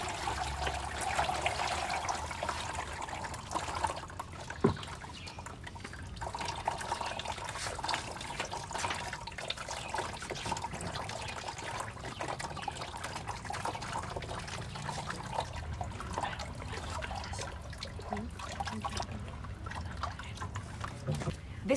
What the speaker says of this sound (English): So what we do is that we pour inside the sieve.